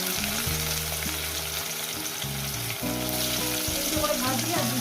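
Pieces of local catla fish fry in hot oil, giving a loud, continuous, close-up sizzle with crackling spatter that runs over a steady low background hum.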